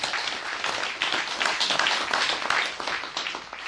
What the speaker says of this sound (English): I'd like to offer a round of applause to our speakers and the organizers of the event